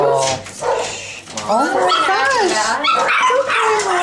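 Small puppies whimper and yip with high, wavering cries close by, continuous and loud, while a person speaks briefly over them at an animal rescue.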